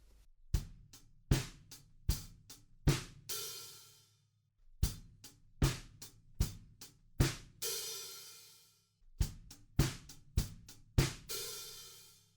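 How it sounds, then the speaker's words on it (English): A close, steady drum beat of kick, snare and hi-hat ends each bar with an open hi-hat sizzle on the end of beat four that rings out and fades. The pattern repeats three times with short gaps between. "Another sizzle that sometimes happens is on the end of 4,"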